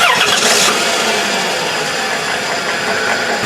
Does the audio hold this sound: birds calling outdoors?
no